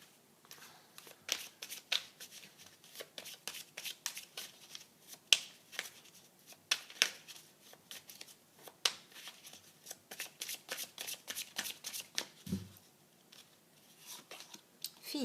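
Fairy oracle cards are shuffled by hand in a series of quick, crisp riffling flicks and taps, close and fairly quiet, with no talk.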